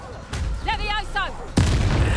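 Confringo spell blasts in the video game Hogwarts Legacy, with a whooshing magical effect and then a loud explosive boom near the end.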